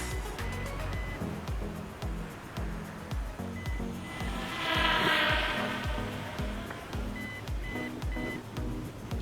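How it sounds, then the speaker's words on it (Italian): An MJX MEW4-1 folding brushless GPS drone with a 2K camera flies, giving a steady motor whine with recurring short beeps that swells louder around the middle of the flight, with no talking. "Il drone vola veramente molto bene."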